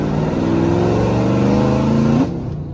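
A 2010 Chevrolet Camaro's exhaust revs loud and close, a deep rising roar that holds for about two seconds and then cuts off abruptly, alone with no talk.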